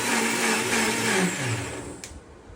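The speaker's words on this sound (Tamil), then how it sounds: "என்னோட புது மிக்ஸி அண்ட் இது என்னோட புது ஜார்." A new kitchen mixer grinder runs at full speed with water added, a loud whirring whine, then cuts off abruptly near the end, winding down briefly.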